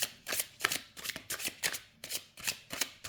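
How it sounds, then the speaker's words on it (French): Oracle cards are shuffled by hand in a steady rhythm of crisp, close riffling swishes, about eight strokes in a row with no voice over them. "les cartes se mélangent très très bien, hyper bien"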